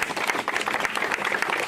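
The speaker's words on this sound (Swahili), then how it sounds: "Makofi." A crowd breaks into continuous applause, a loud, even patter of many hands clapping with no gaps.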